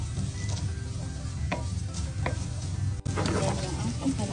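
Steady sizzling and stirring as mung bean stew ingredients sauté together in a pan, with soft scraping taps over a constant frying hiss and a brief break near the end.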